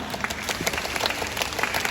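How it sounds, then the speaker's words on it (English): A zoo audience at a sea lion show claps their hands together, producing dense, continuous applause with many overlapping claps, loud and steady throughout. "try clapping your hands to distract the sea lion up on stage"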